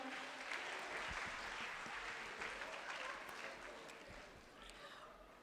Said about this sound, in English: A round of applause, please, for the Department of Agriculture